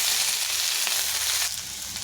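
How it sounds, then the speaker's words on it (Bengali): Ginger paste frying in a pan together with bitter gourd and potatoes, giving a steady, close, dense sizzle that runs unbroken for the whole stretch. "আদা বাটাটা ভাজা হয়ে গেছে"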